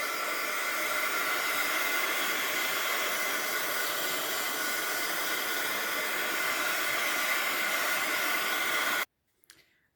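A hair dryer blows steadily and loudly, drying ink on an art journal page, a continuous even whoosh that cuts off abruptly near the end, leaving a few faint handling clicks.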